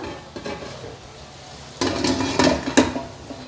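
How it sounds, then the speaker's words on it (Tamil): Metal idli plates are set into a steamer pot of hot water, a few sharp clanks and scraping knocks of steel on steel close by, with a faint hiss of steam underneath. "இப்போது நம்ம ரெடி பண்ணி வச்ச இட்லி பிளேட்டும் இதிலே வச்சிடலாம்."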